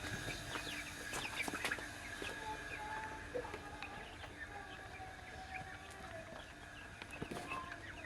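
Many chickens cluck and chatter together inside a shed at a moderate distance, a continuous flock murmur with scattered sharper calls.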